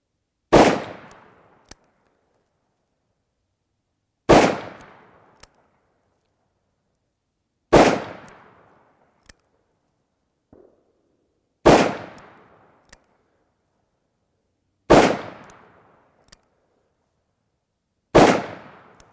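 Six sharp revolver gunshots at a target range, spaced evenly about three to four seconds apart, each a loud close crack with a short decaying ring and a faint click after.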